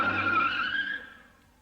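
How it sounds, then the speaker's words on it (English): Volvo 740 Turbo Sedan with a 162-horsepower turbocharged engine, tires squealing loudly in a skid that fades away over about a second, heard in a 1980s TV commercial. "The Volvo 740 Turbo Sedan."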